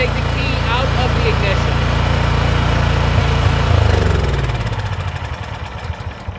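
A Cub Cadet snow blower engine runs steadily and loud with a dense mechanical drone, then drops in level and sputters down toward the end as it shuts off.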